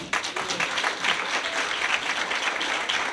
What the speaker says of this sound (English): let's give him another hand clap.